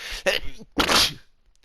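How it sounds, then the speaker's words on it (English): A single sneeze, a sharp catching breath followed by a loud explosive burst, close to the microphone, then quiet. "I'm gonna sneeze."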